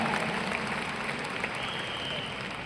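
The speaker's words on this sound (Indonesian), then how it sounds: "saya pinjam tepuk tangan yang paling meriah dari hadirin semua untuk Riway Internasional dan Mr. Lim Boon H" An audience at a business system course event gives a sustained burst of dense clapping that holds steady and then tapers slightly, with a few faint voices mixed in.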